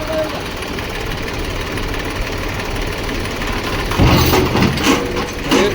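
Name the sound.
tractor engine running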